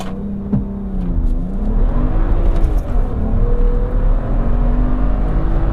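A BMW 1M Coupe with the N54 engine on MHD Stage 2+ tune accelerates hard from 0 to 100 km/h. Its loud engine note climbs steadily through the revs with rising harmonics, heard from inside or near the car with no talking.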